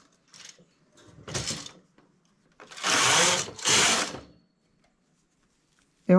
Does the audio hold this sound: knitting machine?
yes